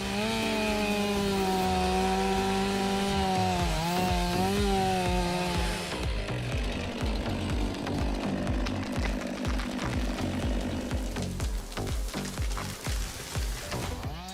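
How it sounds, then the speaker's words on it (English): Husqvarna 560 XPI chainsaw felling a giant tree, a loud, steady engine whine at first that shifts to a rougher, choppier cutting roar with rapid cracking bursts, close and continuous with no talk. "the Husqvarna 560 XPI chain saw emerges as a true arborist, powered by a powerful motor"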